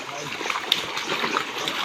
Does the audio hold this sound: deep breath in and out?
no